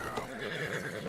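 A horse in the Red Dead Redemption 2 video game gives a short, fairly faint whinny, its voice wavering over a soft game ambience.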